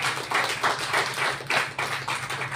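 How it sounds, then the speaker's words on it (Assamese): A congregation claps in unison at a church service, giving a steady run of rhythmic hand claps that sound moderately close and continuous, with no talk over them. "আমি জুকে তালি বজাই ঈশ্বরক ধন্যবাদ।"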